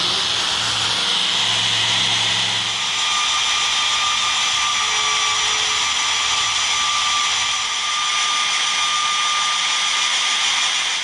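A steady, high-pitched whine of a drill grinding continuously through structural steel, loud and close, with a faint low hum underneath.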